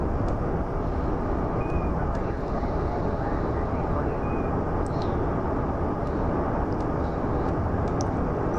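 A rocket with two solid boosters lifts off in the video game Kerbal Space Program, making a steady, loud, broadband engine roar that holds evenly throughout.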